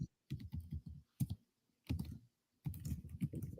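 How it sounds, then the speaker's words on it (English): Fingers type on a computer keyboard in quick clattering bursts separated by short pauses, close and fairly quiet, with no voices over the keystrokes. "Wait, I'm typing."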